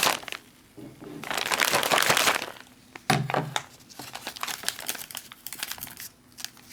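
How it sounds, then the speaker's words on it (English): A zipped MRE pouch holding water and mocha coffee mix is shaken in several bursts of crinkly plastic rustling, loud and close, separated by short pauses. "We'll zip this up and give it a shake"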